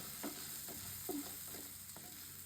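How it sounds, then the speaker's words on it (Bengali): Potatoes frying in a pan for a soybean and new potato curry, a steady faint sizzle with soft scraping stirs at intervals, no voices. "আমি আলুটা ভেজে নিই"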